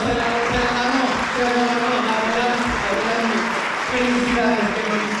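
An audience applauds at a history lecture session, a continuous wash of clapping with voices talking and murmuring underneath throughout.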